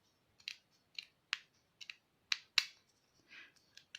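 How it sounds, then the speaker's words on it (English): Scissors snip through a sheet of stiffened hessian (burlap) cut into a drawn shape, giving about nine short, crisp, close cuts at an uneven pace over quiet. "And then just cut it out with a pair of scissors."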